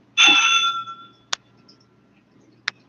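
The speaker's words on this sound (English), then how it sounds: "I rang the front doorbell." A front doorbell at a converted boarding house rings once with a bright sustained ding that fades over about a second, followed by two short, sharp clicks or taps later on.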